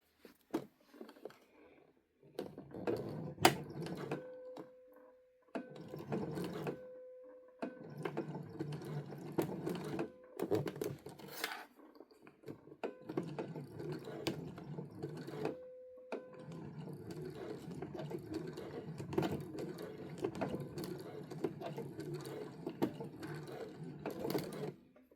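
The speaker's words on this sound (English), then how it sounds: "let's go ahead and sew." Sewing machine stitching a seam on a zipper clutch, a steady close whirring hum that starts and stops several times, then runs continuously through the second half.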